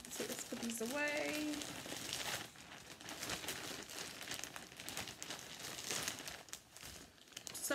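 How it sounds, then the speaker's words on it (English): Plastic packaging around yarn skeins crinkles and rustles close up in repeated irregular bursts, with a person speaking intermittently over the handling noise. "Sorry for all the crinkling."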